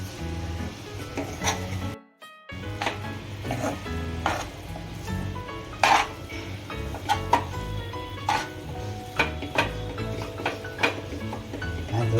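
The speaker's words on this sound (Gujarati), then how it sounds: "પહેલાં એક વખત હલાવી કાઢીએ" Radish greens curry stirred in a pan, scraping and clattering strokes over a low sizzle, with a brief pause early on and repeated spoon knocks later.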